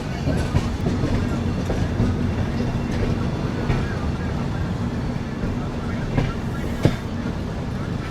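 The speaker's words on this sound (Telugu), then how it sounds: "ఇక్కడ కరువు తీసుకుంటుంది మన ట్రైన్" The Telangana SF Express rolls through a curve, its carriages rumbling steadily with rhythmic clickety-clack of wheels on rail joints and occasional sharp knocks, loud and close from inside the train.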